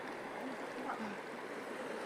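Steady wash of sea waves on the shore at Burgos Island, a continuous broadband rush with no clear individual breakers, heard fairly close with faint voices at times.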